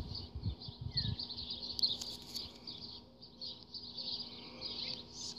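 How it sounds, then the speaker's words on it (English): A faint bird calls briefly in the distance over a quiet outdoor backdrop with a steady high insect-like hiss. "I hear another bird."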